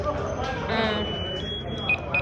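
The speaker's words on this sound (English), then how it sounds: "When you click it, it goes full alarm and it tells people that you're in trouble and you need help." A personal distress alarm, set off by pressing its red button, gives a thin, shrill electronic tone with a few short beeps near the end. The sound stays faint under a person talking.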